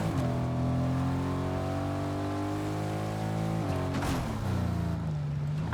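Car engine in the Fortnite video game, a steady droning motor with a pitch dip and shift partway through, loud and continuous with no talking.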